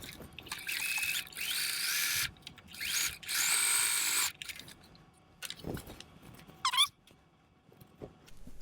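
A sewing machine top-stitches a crease into capris made from old worn-out onesies, running in several short bursts with pauses between them. Each burst is moderately loud and close, with small handling noises in the gaps.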